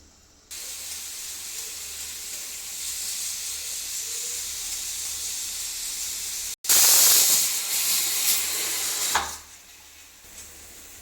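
A low steady hiss runs, then a pressure cooker lets out a loud, sharp whistle of escaping steam for a few seconds before easing off.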